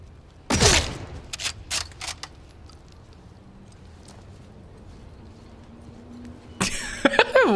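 Enemy gunfire in the video game Atomfall, a sharp burst of shots early, then a few scattered cracks and a quieter stretch before another flurry of shots at the end.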